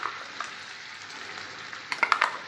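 Chicken ghee roast masala frying in a pan, Mangalore style: a soft continuous sizzle with a few sharp spoon scrapes and clinks near the end, close and moderately quiet, no voices.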